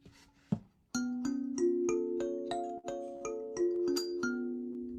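A kalimba heard from the left side of a binaural setup. Bright plucked tines ring in a steady run of overlapping notes with long sustain, after a brief soft intro.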